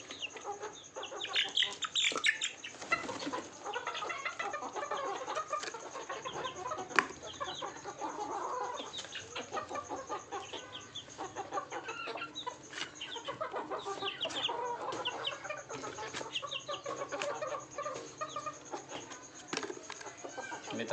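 Poultry birds kept penned indoors cluck and chatter steadily, a dense, fairly faint continuous flock murmur with scattered louder calls and no other sounds.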